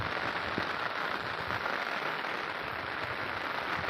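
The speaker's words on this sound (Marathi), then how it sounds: "पाऊसही बंद होईना" Rain falls steadily on surfaces outdoors, a dense, even wash of patter that holds at the same level throughout, with no voices.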